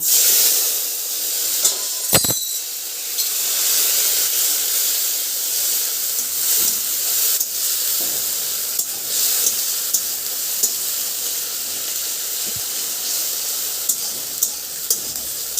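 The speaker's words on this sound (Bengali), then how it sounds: "আদা লঙ্কা এইসবই মা বেটে রেখেছিলো, সেই মশলাটা এখানে দিয়ে দিয়েছি। এবার একটু ভাজা ভাজা হবে।" Ground ginger and chili spice paste fries in a pan for an Alu Potol dish, giving a steady broad hiss and sizzle throughout, close and fairly loud, with a few sharp clinks or stirring clicks along the way.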